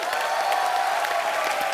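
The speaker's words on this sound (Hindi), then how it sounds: "तो जोरदार तालियां हो जाए" A studio audience at a comedy talk show claps in a loud, sustained burst, with faint cheering mixed into the steady applause.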